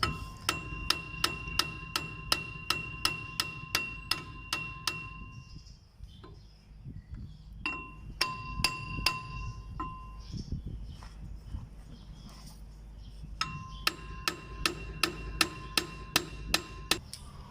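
Hammer blows drive a wheel bearing into the front guide wheel of a DC 70 rice harvester, sounding as steady metallic strikes in rapid even runs at the start and end, with a looser scattering of knocks and handling noise between.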